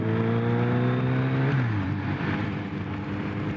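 A Kawasaki ZRX1200R motorcycle engine revs loud and close, its pitch climbing and then dropping sharply as a gear shift goes through, followed by a steady rough rumble.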